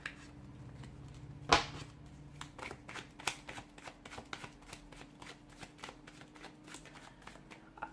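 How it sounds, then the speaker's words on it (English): A deck of playing cards is shuffled close by, with a sharp riffle snap near the start and then a run of soft, quick flicks and taps that continue steadily, with no talking. "I've put those cards back in the deck"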